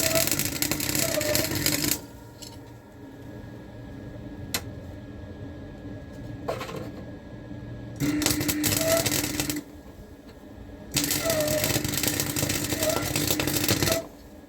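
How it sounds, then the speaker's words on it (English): A cut metal piece being welded in place, with several buzzing, crackling bursts of a few seconds each, separated by quieter pauses. "so let's weld."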